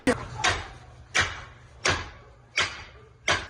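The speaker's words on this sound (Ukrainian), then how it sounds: "Відгуку на прохання не отримують, тож ламають двері." Six heavy, evenly spaced bangs as police forcefully strike and break in a door, each impact sharp and loud with short gaps between.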